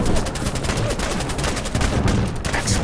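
Sustained gunfire in Fallout 4's Nuka World, aimed at giant spiders, with rapid, evenly spaced shots crackling loudly and continuously from start to finish.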